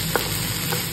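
Cauliflower with beans frying in a pan, a steady close sizzle with a couple of faint stirring scrapes and no voices.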